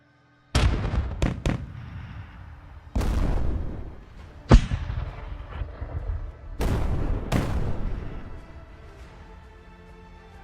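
Tank cannon fire and explosions in battle, with about seven sharp, loud booms at uneven intervals, each trailing off in a rumbling decay, one especially sharp crack in the middle.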